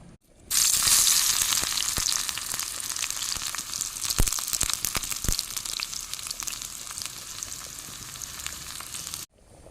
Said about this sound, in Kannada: ಈಗ ನಾನು ಅದಕ್ಕೆ ಬೆಳ್ಳುಳ್ಳಿಯನ್ನು ಹಾಕ್ತೇನೆ